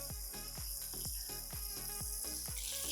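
Eggs sizzling in melted butter in a frying pan, a steady crackling fry with a regular pulsing rhythm, close and fairly quiet, with no voices.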